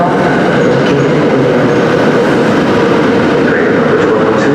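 A train rolls loudly and continuously through Newark Penn Station, with a dense rumble and rail noise close by and no talk.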